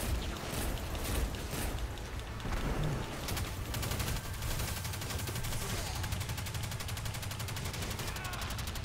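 Dense, continuous gunfire in the Destiny 2 shooter, steady rapid shots and booming impacts filling the whole stretch, loud and close, with a voice talking underneath at times.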